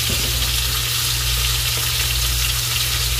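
Food fries in a pan during Vietnamese home cooking of fried fish and stir-fried beef with cucumber. A loud, close, continuous sizzle is steady throughout over a low hum, with no talking.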